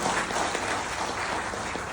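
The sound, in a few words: audience applause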